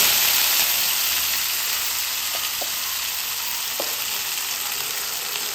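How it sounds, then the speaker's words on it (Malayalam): Curry leaves dropped into hot oil for a jackfruit dish make a loud, continuous hissing sizzle that eases slightly over time, with a few faint clicks. "അതിലേക്ക് ഇതാ കരിയേപ്പില ഇട്ട് കൊടുക്കുന്നുണ്ട്"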